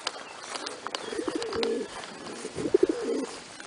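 Racing pigeons cooing in a loft, soft repeated low coos in short bursts, with a cock bird's courting calls close by and faint chirps and rustling around them.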